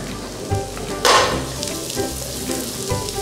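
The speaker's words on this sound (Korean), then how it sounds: "쪽파를 먼저 볶을게요" Green onions (scallions) stir-frying in melted butter in a hot pan, a steady crackling sizzle with a brief louder burst of spatter as they are tossed, close and without voices.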